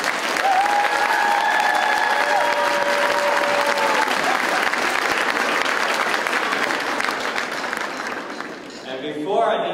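Applause from a school music concert audience at Hermiston High School, a loud sustained crowd clapping with cheering whistles early on, running steadily for nearly ten seconds before thinning at the end.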